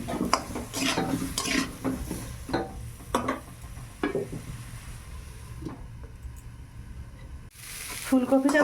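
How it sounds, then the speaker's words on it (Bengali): Cauliflower and potato sizzling as they fry in a wok, with scraping stirs and clinks of a utensil against the pan, a voice speaking over the steady hiss. "ফুলকপিটা ভাজা হয়ে গেছে, এবার তুলে নিই।"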